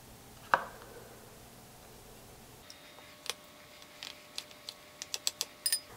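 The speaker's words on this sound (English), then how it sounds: "Once we get the potatoes cut up" A knife cuts up potatoes for mashed potatoes on a board, heard as a sharp knock and then a run of crisp, close chopping taps that grow denser toward the end, with no voices.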